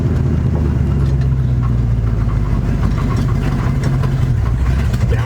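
A 1973 Dodge truck engine runs steadily and loudly up close, a low rumbling drone with a droning hum and slight shifts in pitch as it is downshifted.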